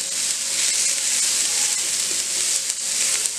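Macaroni vegetables seasoned with salt and black pepper sautéing in a pan: a steady bright sizzle and hiss, loud and close, with faint stirring clicks and no talk.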